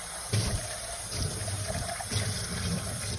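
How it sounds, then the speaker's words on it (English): Tap water runs steadily into a sink while a cup is rinsed under it, a close, continuous splashing hiss with small surges as the cup moves through the stream. "Now we're going to rinse it in the sink."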